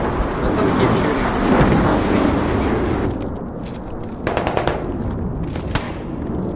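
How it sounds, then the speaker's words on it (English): Gunfire in the video game Squad: bursts of shots and heavy thuds, dense at first, then scattered cracks in a quieter stretch, with players talking throughout. "Let them keep shooting."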